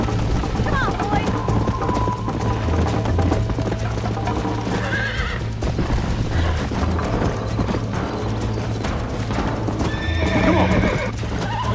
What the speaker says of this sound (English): Giddy up! Don't go easy on me!